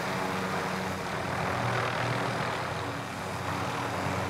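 A helicopter from a video game drones steadily through the whole stretch, a dense, continuous engine and rotor roar that stays loud and even from start to finish, with no voices on top.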